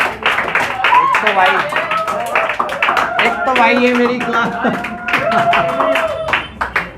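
Students in a Class 10 classroom clap in quick, uneven bursts, sharp claps near and loud, while a teacher talks over them.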